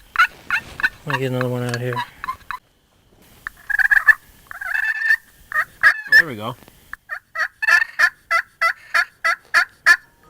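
Hunter's turkey call imitating a wild turkey during a turkey hunt, giving repeated sharp yelps in steady series with a few raspy purrs and rolling notes, close and loud, with brief talk between calls.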